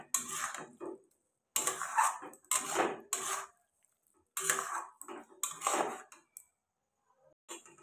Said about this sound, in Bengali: এটাকে অনবরত নাড়াচাড়া করতে হবে